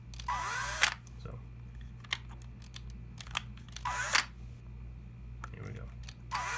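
Hand drill boring into a wood workpiece in a woodturning workshop, with several short bursts of drilling separated by pauses and a steady low hum underneath.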